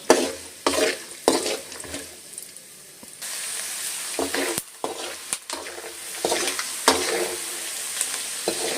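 Mustard seeds, urad dal and peanuts frying in hot oil in a pan, a loud continuous sizzle with crackling pops and intermittent stirring scrapes and clinks throughout.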